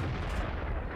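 A KV-1S tank's cannon fires in World of Tanks, a single loud, heavy boom with rumbling low-end decay that fills the whole second, close and dominant with no talk over it.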